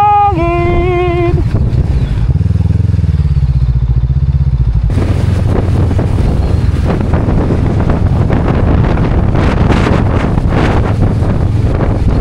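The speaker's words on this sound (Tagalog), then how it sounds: "Ang lakas ng hangin." Strong wind roars and buffets the microphone during a motorcycle ride from Pagudpud to Dingras in Ilocos, a loud continuous rush with engine rumble beneath, after a brief musical tone at the start.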